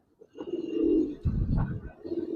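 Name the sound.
Giribaz silver pigeons cooing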